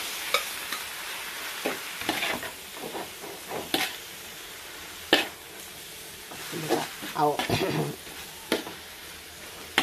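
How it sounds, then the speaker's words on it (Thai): Indian trumpet tree pods stir-fried with seasoned pork belly in a pan, giving soft sizzling under sharp, irregular scrapes and clatters of the utensil, with the mix hissing quietly between strokes. "เอาเพกาลงผัดกับหมูเลยค่ะ"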